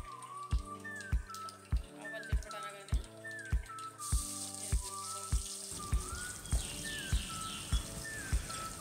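Onions fry in hot oil with spices for a Nellore-style small fish curry, a steady sizzle under a repeating rhythmic beat of background music, without any talk.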